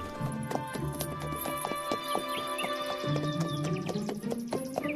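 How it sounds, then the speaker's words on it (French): Donkey hooves clopping along at a walk, a regular close series of hard knocks layered over a tonal music background. "Mais c'est mon âne, Nikaz"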